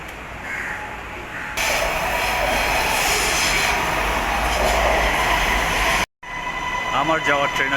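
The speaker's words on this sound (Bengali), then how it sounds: "আমার যাওয়ার ট্রেনে চলে আসছে।" A train pulls into a station platform near KLCC with a loud, sustained rumbling roar and a high whine, followed after a short break by more rumbling and faint voices.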